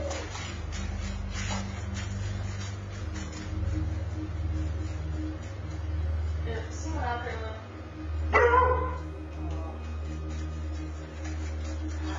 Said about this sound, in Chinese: 他的几只狗狗突然变得很焦虑和不安，对着门外吠叫